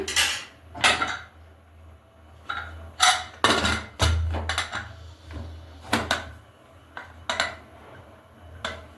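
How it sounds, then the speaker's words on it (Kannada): A metal pressure cooker lid is handled and clamped shut in a home kitchen while cooking rice, giving a series of sharp metallic clanks and scrapes spaced irregularly, with no talking. "ಕುಕ್ಕರ್ ಕ್ಯಾಪ್ನ ಕ್ಲೋಸ್ ಮಾಡೋಣ"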